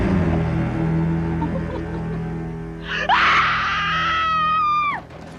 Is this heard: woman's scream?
yes